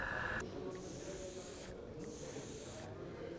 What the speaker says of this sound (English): It doesn't have to be a fine airbrush.